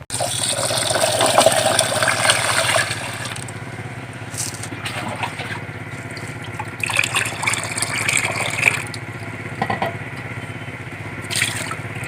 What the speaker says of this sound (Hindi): चावल धोए जा रहे हैं जी।